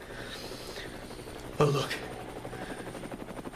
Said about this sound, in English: Brooks has edited in helicopter noises signifying that I'm going to be rescued